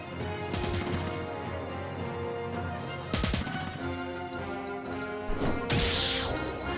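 Guns fire during a Final Fantasy VII video game battle: a few sharp cracking shots and impacts over steady game music, with a brighter burst near the end.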